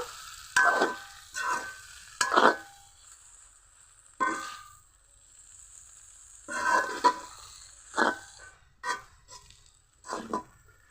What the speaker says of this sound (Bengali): এখন নুডলসগুলো দিয়ে দিব। মিশিয়ে নিব।